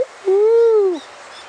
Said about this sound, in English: as you're listening to some lyre birds live down at Fitzroy Falls